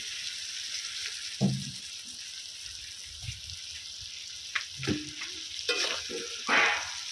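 Fried potatoes are stirred into mutton curry in a pan, giving a steady soft sizzle broken by several louder scraping, stirring bursts near the end, with no talking.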